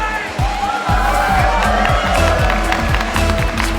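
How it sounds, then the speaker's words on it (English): A loud esports crowd at the Rocket League World Championship roars and cheers, with rhythmic thumping beats and broadband noise running throughout, close and energetic. "This crowd already getting loud."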